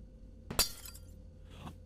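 Glass breaking in the video game Garten of Banban: one sharp shattering crash with a bright tinkling tail, followed by a fainter second clink about a second later, over a low steady game hum.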